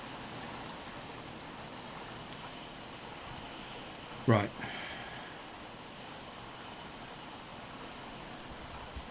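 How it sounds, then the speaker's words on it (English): Rain falls outside, heard indoors as a faint, steady hiss, with one brief spoken word and a soft thump midway. "Well, the garden will be enjoying this rain."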